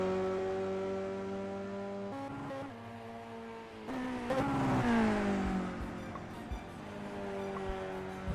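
A simulated BTCC Ford Focus race car on an outlap at Oulton Park in a racing video game drones loudly and steadily. Its revs rise and fall with gear shifts, and no one talks over it.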